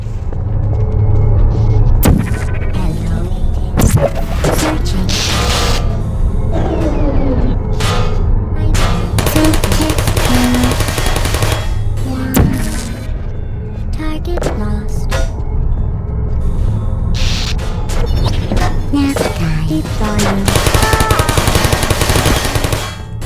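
Sentry turrets in the Portal video game fire in loud, rapid automatic bursts, dense rattling gunfire repeating for over twenty seconds with short gaps and booming impacts.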